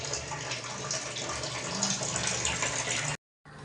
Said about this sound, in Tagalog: Kaso ang hina ng tubig.